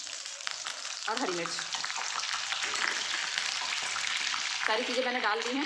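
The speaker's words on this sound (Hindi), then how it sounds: "ऑयल हमारा गर्म हो गया है। सबसे पहले मैं इसमें राई डालती हूँ, इसके बाद जीरा और करी पत्ता" Mustard seeds, cumin and curry leaves sizzle and crackle steadily in hot oil for a pumpkin curry, a dense continuous frying hiss that runs throughout under a woman's speech.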